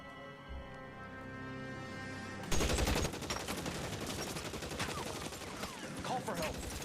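Gunfire in the video game Marathon, a sudden loud burst that becomes dense, continuous rapid shots, with a faint voice underneath.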